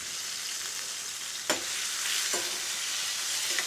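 Onions frying with tomato in a pan for a BIR-style rogan gosht curry, a loud continuous sizzle with a few sharp stirring clicks from a utensil.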